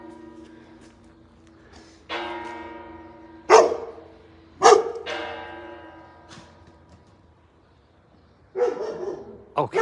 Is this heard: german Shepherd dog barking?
yes